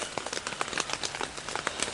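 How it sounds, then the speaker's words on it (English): Rain patters at a camping site in quick irregular taps and drips, close and moderately loud, with no voices. "it's raining. It's wet."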